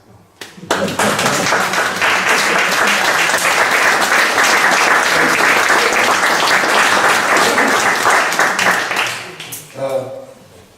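A room full of people applauds at a museum talk, a dense, steady roar of clapping that swells in quickly, holds for about nine seconds and fades, with a voice resuming briefly near the end.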